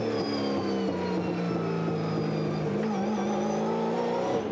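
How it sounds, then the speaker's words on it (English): A V8 SuperTourer race car engine on throttle in wet, miserable conditions at Pukekohe, a loud, sustained, harmonic roar whose pitch climbs gradually, heard from close by with no talk. "Trying to put those hundreds of horsepower down gently with that fly-by-wire throttle system"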